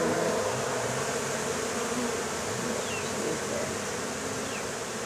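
A dense, steady drone of many honey bees buzzing around an open hive, close and continuous, with a few individual bees passing nearer now and then.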